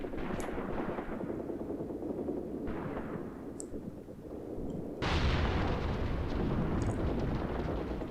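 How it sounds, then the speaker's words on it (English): Tank gunfire in the Graviteam Tactics wargame, with a tank firing at a half-track. A steady roar of distant battle rumbles on, then a heavy boom hits hard and leaves the din louder. "These poor guys are being shot in the back with their tank that's trying to hit this half-track"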